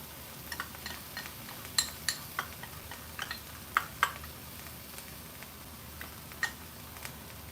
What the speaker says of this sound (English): I'm going to mix everything through until the cornstarch dissolves in